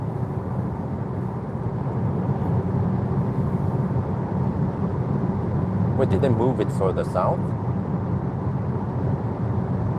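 A steady low rumble of tyre and road noise fills the cabin of a VW ID.3 Pure electric car cruising on a noisy motorway stretch, while a person speaks briefly partway through.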